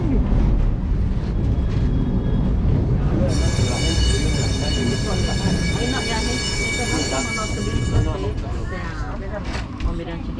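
A Lisbon tram starting its ride, with rumbling rail noise and a high whine setting in partway through, while people talk and cheer nearby throughout.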